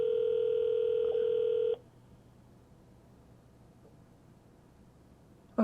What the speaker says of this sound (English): I was able to dial extension and the phone number at once.